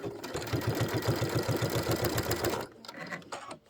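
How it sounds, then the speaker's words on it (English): A sewing machine stitches forward along a fabric edge, its needle hammering in a fast, even rhythm for a couple of seconds before stopping, followed by a few quieter mechanical clicks. "Let's go back a little and sew forward"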